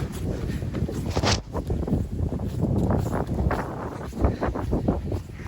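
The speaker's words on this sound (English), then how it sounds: "At least we got a little coverage from the wind, which is just a beast" Strong wind on the Appalachian Trail in snow and ice, a loud continuous rush buffeting the microphone, with gusts and rustling that rise and fall alongside occasional footsteps, and no one talking.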